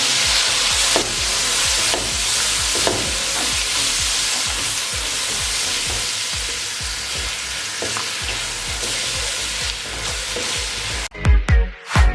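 Powdered spices and lemon juice frying for biryani masala, a loud continuous sizzle with rhythmic stirring scrapes throughout, ending in a few clanks of the spoon against the pot.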